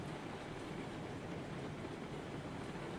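Train rolling along the track in the video game RailRoads Online, a steady continuous low rumble of wheels on rails with no distinct clacks, running alone for the whole stretch.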